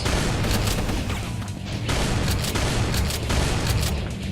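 Repeated booming shotgun blasts in Brutal Doom, played with the Brutal Doom Metal Volume 4 mod, fire in quick succession over a dense, loud wash of game noise and music.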